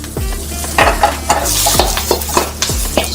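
Ginger and garlic sizzle in hot oil in a wok while being stirred, a constant hiss punctuated by repeated scraping and clinking of a spatula against the pan, close and fairly loud.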